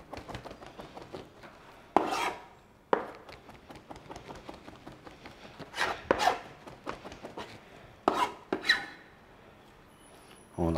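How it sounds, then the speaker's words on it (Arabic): Garlic being cut with a knife and grated in a kitchen, steady rasping and chopping strokes, close and rhythmic with a few sharper knocks. "هون الثوم بهالطريقة بواسطة السكين، بواسطة المبرشة"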